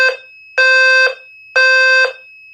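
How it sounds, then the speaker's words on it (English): Electronic low-frequency sounder fire alarm blaring in repeated on-off pulses, each about half a second, loud and close, with nothing else audible. "Someone pulled the fire alarm."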